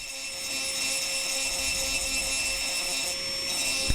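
An engraving drill fitted with a spur grinds glass with a constant high motor whine and a gritty buzz from the contact, running steadily for a few seconds.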